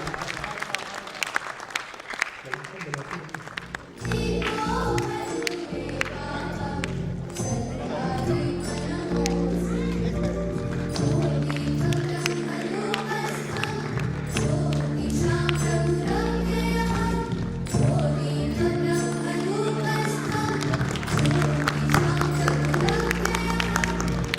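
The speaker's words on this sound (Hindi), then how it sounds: "सभी लोग तालियां बजाते रहें जिससे कि एक उल्लास का माहौल यहाँ पे बने।" Sustained applause from an audience at a formal Powergrid ceremony, steady and dense for nearly the whole stretch, with loud tonal music or sound running underneath.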